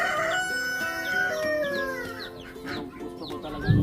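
Chickens crowing and clucking nearby, with several overlapping cock-a-doodle-doo calls and sharp clucks in quick succession and no talk over them.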